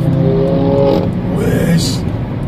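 A car engine hums steadily from inside the cabin while cornering on the Nordschleife, with a brief rise and shift in tone as someone speaks over it.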